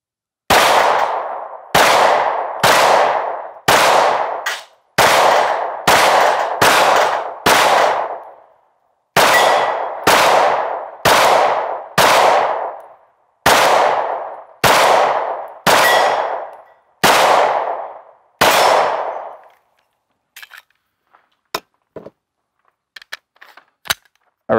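Pistol shots from an IWI Masada firing 115 grain Federal ammunition at targets, about fifteen loud sharp reports in a steady paced string, then a few faint clicks and knocks afterward.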